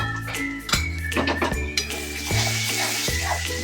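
A spoon stirring masala with spices in a pan for drumstick bhaji, with repeated scraping and knocking strokes against the metal over a faint sizzle, close and fairly loud.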